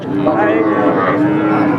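A dairy cow moos in one long, steady low call that fills the whole moment, close and loud.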